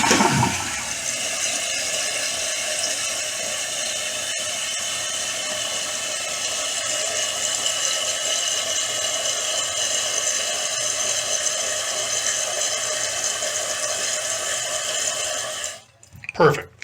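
A toilet flushes and then keeps running steadily as the tank refills through a leaky fill valve that has just been adjusted, a loud, continuous rush of water lasting about fifteen seconds before it cuts off abruptly.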